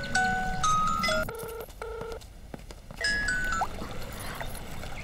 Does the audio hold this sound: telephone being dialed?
yes